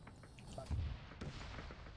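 Heavy cannon blasts in a Space Marines close-quarters combat video game, a deep low boom near the middle followed by a sharper crack, set against dull distant rumbling of battle.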